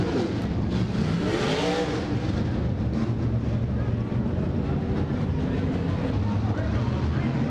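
Stock cars roar out of turn four at Quad-City Raceway, a dense wash of engine noise with rising revs and wind buffeting, loud and continuous while a commentator talks over it.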